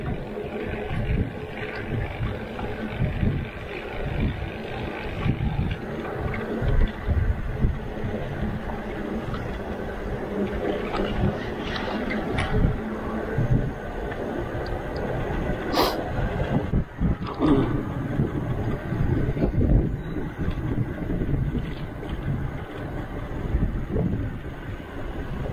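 Riding a Sun Seeker recumbent electric trike outdoors: steady wind buffeting the microphone and a rolling rumble continue throughout.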